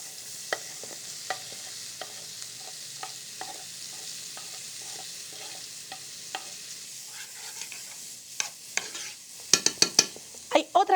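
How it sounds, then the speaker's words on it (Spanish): Onion sautéing in butter in a pan, a steady soft sizzle with recurring scrapes and stirs of a utensil, growing into louder, sharper clatters near the end; no talk. "Vamos a agregar aquí mantequilla. Y aquí vamos entonces a sofreír la cebolla."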